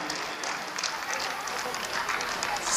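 Audience at a women's self-help group gathering in a village applauds steadily, a dense wash of clapping at moderate volume with no speech.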